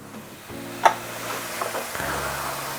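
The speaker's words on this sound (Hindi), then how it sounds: "सारे मसालों को 30 से 40 सेकंड के लिए बेसन और प्याज के मिक्सचर में भून" Spices frying in a gram flour and onion mixture over a low flame for chicken masala, a soft steady sizzle with a brief clink of a spoon near the start and faint stirring scrapes.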